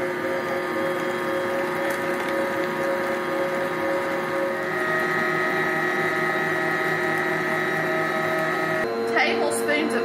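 An electric mixer whirs steadily as it beats butter, sugar and eggs for a holiday pecan fruit cake, a continuous mechanical drone with a slight shift in pitch near the end.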